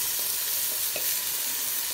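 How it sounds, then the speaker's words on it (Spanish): Onion and pumpkin sauté in a pan as the base for a pumpkin and boletus risotto, a dense continuous sizzle with soft stirring scrapes now and then, close up and without speech. "ahora echamos aquí lo primero la cebolla a sofreír"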